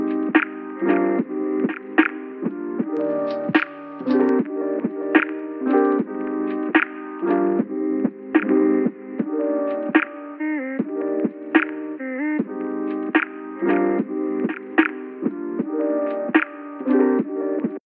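Music bed run through a mid-range Ableton distortion effect imitating a vintage broken tape or ruined vinyl player, with a steady, loud, rhythmic pattern of chords and hits throughout, no voice present.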